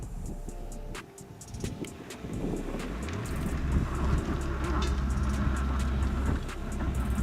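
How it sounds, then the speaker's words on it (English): A Mitsubishi Outlander SUV in snow mode revs and strains on a climb while its unloaded wheels spin, the engine rising to a steady drone over rumbling road and wind noise, with no one speaking. "the engine revs up, and the Outlander starts climbing"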